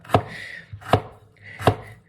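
Knife chopping ingredients on a cutting board while making Thai khao pun noodle curry sauce: three sharp, evenly spaced woody thuds about three-quarters of a second apart, close and distinct with quiet between them.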